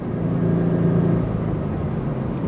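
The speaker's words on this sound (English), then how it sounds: "I was also waiting for my car to warm up" Turbocharged Scion FR-S engine idling while warming up in rainy weather, a steady low hum with a faint mid-range whir, constant and close, no talk.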